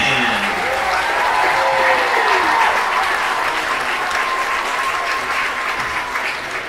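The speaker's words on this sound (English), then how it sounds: "The big round of applause for the Shelby Ribbon Band" Crowd at an outdoor marching band show applauding the Shelby Ribbon Band, sustained dense clapping and cheering with whistles and faint voices over it, steady throughout.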